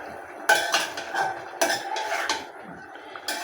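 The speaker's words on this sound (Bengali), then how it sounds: "এখন মশলাটা একটু মিশিয়ে দিব" A utensil scrapes and clinks against a cooking pot while spice powders are stirred into winter vegetables, several sharp metallic strokes in uneven bursts between quieter pauses.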